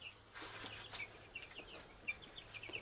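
Nine-day-old broiler chicks chirp in soft, high, scattered peeps, faint and somewhat distant over a quiet low hum, with no voices.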